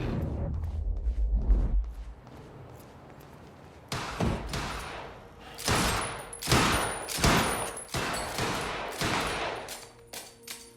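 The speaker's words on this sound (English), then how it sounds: "I gotta check out that gunfire before I go anywhere else." Bursts of gunfire in the video game Quantum Break crackle in rapid volleys, sharp repeated shots some distance away after a low thud near the start.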